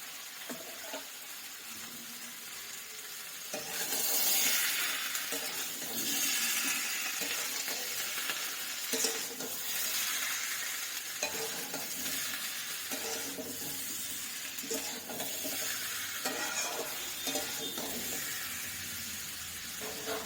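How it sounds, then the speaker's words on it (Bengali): Radish being stirred in a hot pan with salt, giving a steady hiss and sizzle with scraping stir noises that swell and fade throughout, no talking. "মূলোটা দিয়ে একটু নাড়াচাড়া করে ঢাকা দিয়ে দেবো"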